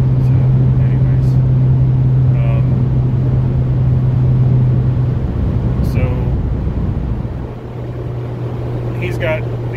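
Car driving fast on the road at around 120, a loud steady interior rumble of engine and road noise that eases slightly near the end.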